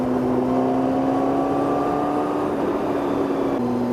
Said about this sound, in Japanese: 音がもう明確に変わって、かなり凶暴な排気音と